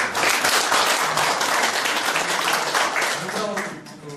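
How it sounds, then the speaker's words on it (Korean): A seated audience gives loud, sustained applause to welcome guests attending a Korean event. The dense clapping stays steady for several seconds, then eases off slightly toward the end as a voice begins to come through. "여러분 큰 박수"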